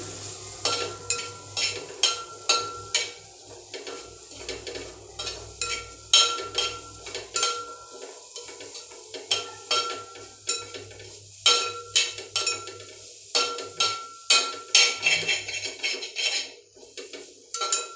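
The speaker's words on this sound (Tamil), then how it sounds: "கொஞ்சமாக பெருஞ்சீரகம், தேங்காயை நல்லா வறுத்துடலாம்." Fennel seeds and grated coconut are dry-roasted in a pan for an egg curry, a spoon scraping and clinking against the metal in quick repeated strokes with a faint dry crackle between them.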